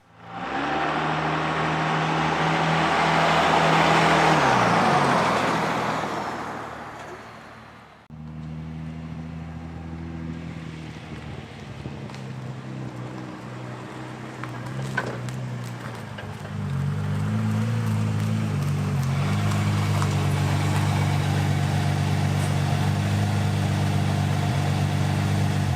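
A turbocharged Nissan 350Z drives along with a loud, building engine roar that falls away as it slows. It then settles into a steady idle and low rumble as the car pulls up and stops.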